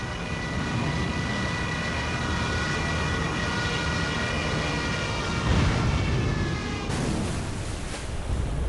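Wailing sirens of German Stuka dive bombers rise and hold in a steady howl over aircraft engine roar, with a heavy impact rumble partway through, loud and without speech.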